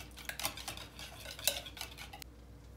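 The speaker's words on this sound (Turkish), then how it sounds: "Ve bunları çırpıyoruz." Egg and yogurt whisked together in a bowl with a utensil: quiet, rapid clinking taps against the bowl in an uneven rhythm, stopping abruptly near the end.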